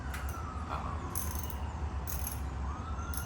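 Ratcheting clicks from loosening the valve lash adjusters on a Predator 420 engine, with quick metallic bursts repeating in a steady rhythm, close by and fairly quiet.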